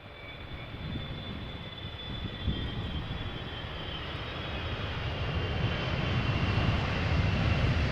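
A Boeing 777-200 long range jet arrives at Amsterdam Schiphol Airport on a windy day. Its engine roar is steady and broadband and grows louder and nearer over the whole stretch, with no talk.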